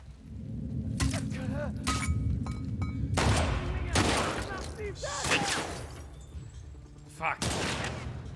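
Bursts of gunfire from The Last of Us Part II crack out in scattered volleys over a steady low game rumble, with a few sharp shots standing out among rapid clusters; a voice talks loosely over parts of it.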